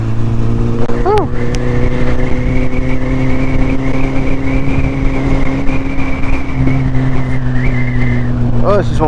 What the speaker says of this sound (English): Oh, this is one whistly helmet.